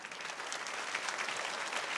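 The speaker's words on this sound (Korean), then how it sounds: "우리 잠깐 일어나면 박수할까요?" Church congregation standing and applauding together, a dense, steady wash of many hands clapping at close range for the full length, with no talk over it.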